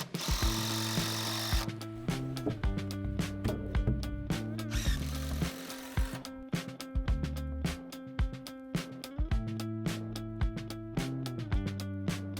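Screws driven from below into roof trusses and wall top plates of a DIY shipping-container workshop, code-approved truss fasteners; a power driver whirs in repeated loud bursts with brief pauses between, close and without talk.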